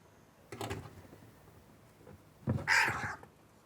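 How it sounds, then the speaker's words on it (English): Two bursts of agitated calls from a bird trapped in a chimney, the second louder and harsher with shrill high squawks, separated by quiet, sounding enclosed and distressed. "The bird sounds like it's very distressed."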